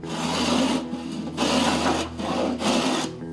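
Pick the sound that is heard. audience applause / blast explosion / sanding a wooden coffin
sanding a wooden coffin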